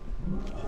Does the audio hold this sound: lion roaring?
yes